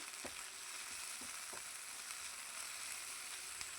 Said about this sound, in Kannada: ಈಗ ಇದನ್ನು ಒಂದು ಸ್ವಲ್ಪ ಹೊತ್ತು ನಾನಿಲ್ಲಿ ಫ್ರೈ ಮಾಡ್ಕೊಳ್ತೀನಿ